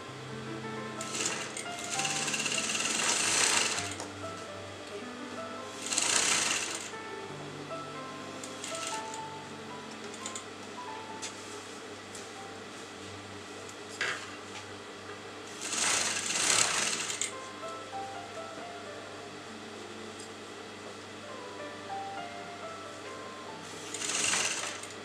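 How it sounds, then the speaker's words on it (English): A sewing machine top stitches a raw silk neckline, with several short whirring runs separated by quieter handling, heard close at moderate volume. "I'll be turning this neckline just like that, and let me put a top stitch."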